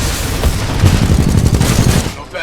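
Heavy gunfire during a Titanfall 2 battle, a dense, loud roar of rapid shots and booming impacts that stays constant throughout before dropping off briefly at the end, with no voice over it.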